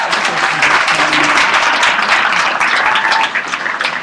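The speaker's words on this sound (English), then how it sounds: "you can give them a big round of applause" Graduation audience applauding, a loud, dense wash of many hands clapping continuously and evenly from close by, with faint crowd murmur underneath.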